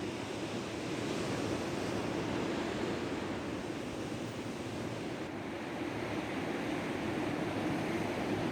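Stormy sea surf under a thundery sky, a dense, continuous wash of breaking waves with wind noise buffeting the microphone, steady and loud throughout with no voices.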